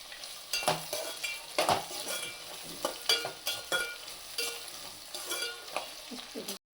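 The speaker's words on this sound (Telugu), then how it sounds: "ఇవి బాగా మగ్గినాక మనం ముందుగానే ఉడకపెట్టుకున్న రొయ్యలు అయితే వేసుకొని బాగా తిప్పుకోవాలి" Pre-boiled prawns being stirred in a frying pan for mixed fried rice: a spatula scrapes and knocks against the pan in a steady rhythm of repeated strokes over a soft sizzle.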